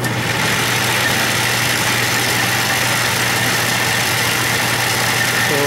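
A Craftsman 6-inch lathe with a chuck installed runs in reverse, giving a steady, unbroken mechanical hum and drone at close range with no talking.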